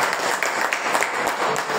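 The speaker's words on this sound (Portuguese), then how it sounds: "Você pode aplaudir ao Senhor por essa palavra." A church congregation applauding during a worship service, dense continuous clapping at moderate loudness with no voice over it.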